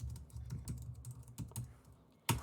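Quick typing on a computer keyboard, a string of soft, irregular key clicks close by, ending with one sharper, louder tap.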